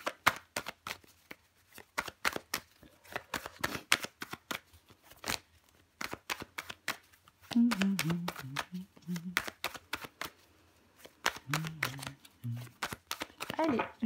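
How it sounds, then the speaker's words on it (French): Tarot cards laid out and covered on a table, rapid crisp card slaps and flicks in irregular bursts, close, with a voice speaking in between. "Je vais recouvrir des cartes"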